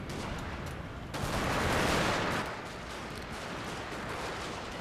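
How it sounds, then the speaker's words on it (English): Massed rifle volleys from troops on a wall laying down suppression fire in Total War: Shogun 2 – Fall of the Samurai, a dense continuous crackle of gunfire that swells louder for a second or so before settling back to a steady barrage. "I'll redeploy my troops on the wall to provide suppression fire on the enemy"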